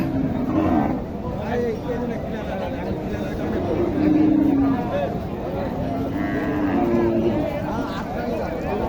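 Cattle lowing at a crowded village livestock market in Naogaon, Bangladesh, where Sahiwal and local dairy cows with calves are being sold; several drawn-out moos rise through steady crowd chatter and nearby talk.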